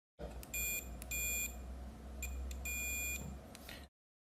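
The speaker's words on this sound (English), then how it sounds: "Now we're going to measure continuity." A multimeter beeps during continuity testing while installing a Bluetooth MP3 module, sounding as a series of short, faint electronic tones in uneven bursts over a low hum, with no speech.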